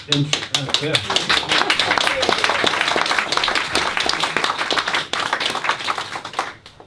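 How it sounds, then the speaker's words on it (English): An audience at a public talk claps, a dense burst of many hands beginning loudly with a few voices at the start, holding steady, then tapering off near the end. "the clapping was started by another public servant."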